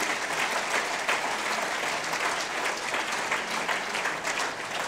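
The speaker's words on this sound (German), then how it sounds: "Applaus für dieses Team" Steady, dense applause from an audience at the Otto Brenner Prize ceremony in 2017, sustained and even throughout, with no speech over it.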